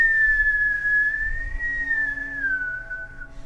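A single sustained whistled tone, held steady with a slow gentle waver in pitch, sounding close and clear over a quiet, faintly rumbling background.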